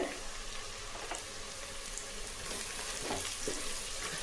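Broken red chillies and masala sautéing in a pan over a low flame, a quiet crackling sizzle with light stirring, close and alone.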